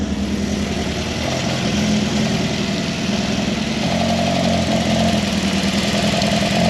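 MK Indy kit car engine idling steadily as it warms up after a service, a continuous low, even rumble close by with a slight shift in tone partway through and no voices.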